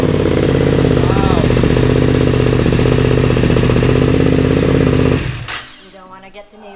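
A chrome rose gold scrambler motorcycle engine runs loud and close with a throbbing, rapid exhaust note and revving, then cuts off abruptly near the end, followed by quiet; a person exclaims briefly over it.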